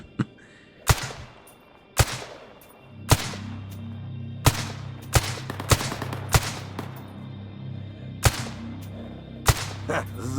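Test-firing a gun in STALKER GAMMA: about a dozen loud single shots at irregular intervals, each cracking sharply and trailing off, over a steady low hum.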